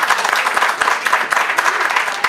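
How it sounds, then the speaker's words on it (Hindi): Audience applause at a community organisation's evening event in a hall, steady dense clapping from a crowd with a few sharper individual claps standing out, no talk over it. "110 तालियां प्लीज"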